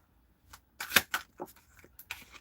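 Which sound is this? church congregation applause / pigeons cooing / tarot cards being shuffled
tarot cards being shuffled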